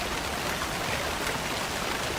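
Steady rain pours down in the video game Alan Wake 2, a dense, loud, unbroken hiss of falling water with no voices over it.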